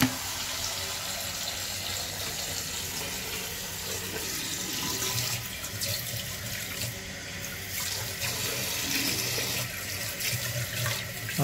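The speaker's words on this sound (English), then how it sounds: "Now I'm going to turn the water back on." A toilet tank refills with water after the supply is turned back on, a steady hiss and rush of filling water running continuously at moderate level with slight swells, no voices.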